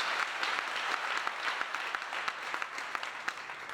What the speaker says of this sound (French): Maintenant, acclame pour le Seigneur.